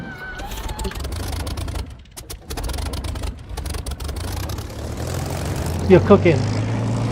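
A propeller aircraft engine in the DCS flight simulator starts up and builds to a steady drone, with sputtering catches near the end, heard under someone talking throughout.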